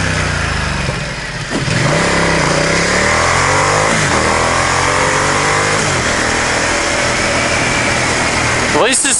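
Ducati XDiavel motorcycle engine running through its stock exhaust pipes, a loud near drone with repeated revs rising and falling across the ride, steady wind and road noise throughout.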